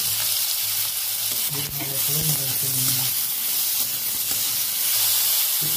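Pineapple sizzling in hot oil in a kadai, a constant loud hiss with a few stirring clinks and a low hum under it.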